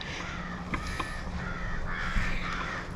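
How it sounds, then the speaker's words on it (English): Crows cawing loudly in a home vegetable garden, several harsh calls rising over a steady outdoor background with no talking. "wow, those birds are loud"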